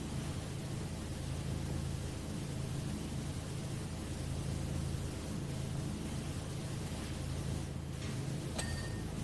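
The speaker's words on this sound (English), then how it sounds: "I'm not listening to constant white noise trying to stay awake." Constant white noise from a video game fills the whole stretch as an unbroken, even hiss at steady volume, with a brief faint tick near the end and no voices.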